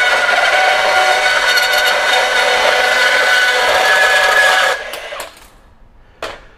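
A Makita GBP01 40V brushless deep cut band saw slicing thin strips of wood, a loud steady whirring cut that stops suddenly near the end, leaving a faint motor tail and one short clunk.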